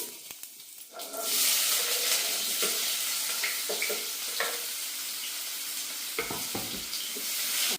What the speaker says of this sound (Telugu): నూనె కాగిన తర్వాత ఫస్ట్ కొంచెం జీలకర్ర వేస్తానండి